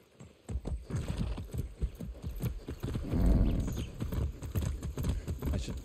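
Steady clip-clop of horse hooves trotting in the video game Far Cry 6 at a regular rhythm, close and fairly loud, with a few heavier thuds midway and no talking.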